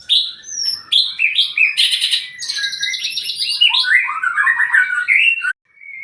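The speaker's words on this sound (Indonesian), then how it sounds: "beginilah penampakan burung setelah kita cabut selama dari Senin pagi sampai Kamis sore ya teman-teman" An oriental magpie-robin (murai), a wild-caught bird being conditioned for song competition, sings a loud, close, continuous run of varied chirps, whistles and trills, broken by short pauses and ending abruptly.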